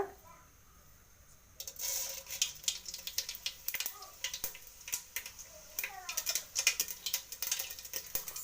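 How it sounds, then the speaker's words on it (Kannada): Mustard seeds splutter in a pan of hot oil while a lentil sambar is being cooked, giving sharp irregular crackles and pops that start after a quiet moment and keep bursting close by. "ಸಾಸಿವೆ ಸಿಡಿತಿದೆ"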